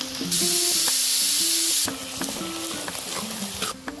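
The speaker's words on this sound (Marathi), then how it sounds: "आता आपला कांदा थोडासा ब्राऊन होऊन घ्यायचा आपल्याला" Sliced onion browning in a pan with ginger garlic paste for palak mutton, a loud steady sizzle with bursts of spray-like hiss and repeated stirring scrapes, close and without talk.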